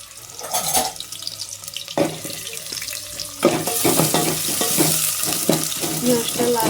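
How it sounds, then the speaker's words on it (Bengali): Chopped onions hitting hot oil in a home kitchen pan, a sharp sizzle that swells into a steady loud hiss with spatter, preceded by clattering and stirring of the pan. "পেঁয়াজটা লাল লাল করে ভাজা হতে থাক"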